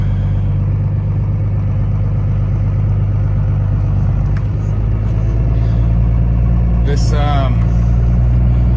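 A 1995 Dodge Ram extended-cab pickup's engine rumbles steadily from inside the cab while driving, a low continuous drone with a brief higher whine near the end.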